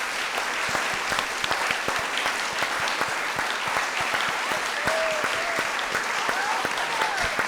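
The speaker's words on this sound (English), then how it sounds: "So please put your hands together for our panellists and Christians like us." An audience applauds panellists at a live Christian panel Q&A, with steady, dense clapping that carries on without a break, loud and close, with a few faint voices mixed in.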